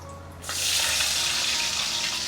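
Garlic tossed into hot oil with curry leaves in a home kitchen pan bursts into a steady, loud hiss of frying that sustains without pause.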